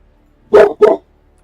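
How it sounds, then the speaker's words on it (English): A dog barks twice in quick succession, loud and close, with silence around the two sharp barks in an indoor setting after some ice fell. "Some ice fell, and I knew he was going to start barking"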